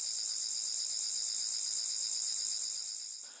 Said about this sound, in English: that standard slow repetitive buzzing from the other 3 screwdrivers is heard